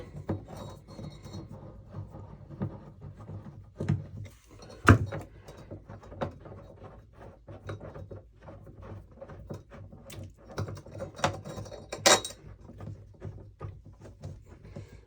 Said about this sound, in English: So now we're going to unscrew this, get out these two screws.